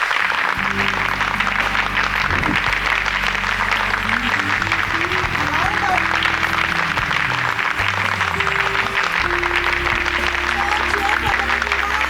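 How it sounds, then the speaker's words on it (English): Audience of parents at a school annual day applauding a performance: dense, sustained clapping from a large crowd throughout, with music and a voice faintly underneath. "Come on, claps, parents."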